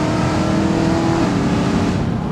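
A BMW M3 E92 with DKG gearbox pulls hard under acceleration, a loud continuous engine roar with rising tone throughout, close and uninterrupted.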